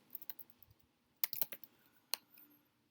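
A computer keyboard clicks out a short name in quick, close keystrokes, with a small burst at the start, a denser run in the middle and a final single tap.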